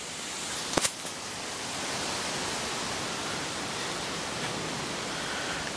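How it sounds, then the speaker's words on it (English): Steady broadband whooshing of wind blowing through trees, constant and fairly loud, with a brief sharp click near the start. "Right now you can hear the wind blowing."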